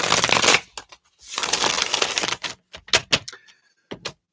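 Stiff reading cards shuffled close by in two long rustling riffles, followed by a string of sharp separate snaps and taps as the deck is squared and handled, with no talking.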